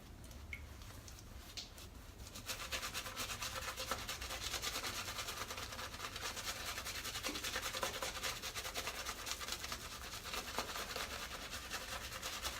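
Shaving brush lathering soap for sensitive skin, with a steady, close wet rubbing and swishing that starts quietly and runs continuously for several seconds.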